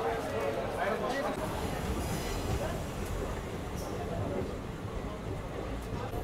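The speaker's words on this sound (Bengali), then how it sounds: "আমার ট্রেন ছেড়ে দিল বর্ধমান রেলওয়ে স্টেশন থেকে" The Shahid Express pulls out of Bardhaman railway station, heard from inside a carriage as a steady rumble of wheels and car body, with faint squeals and muffled voices in the background.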